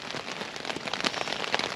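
Rain from Storm Ciaran patters steadily on a compact one-person tent at a wild camp in Wiltshire, a dense close hiss of drops with no voices.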